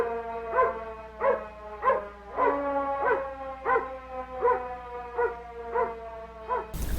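A dog out on a road in a 1972 film barks about nine times in an even, repeating rhythm, each bark clear and close with no talking over it.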